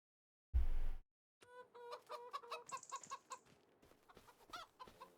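Chickens in the farming game Farming Simulator 25, a sharp loud burst followed by a run of clucks and squawks from several birds, close and busy with no talking.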